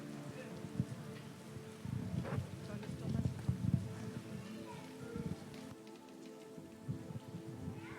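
Rain falls steadily at an evening Pentecost vigil, a soft hiss of drops with occasional patters, while a voice speaks faintly over it.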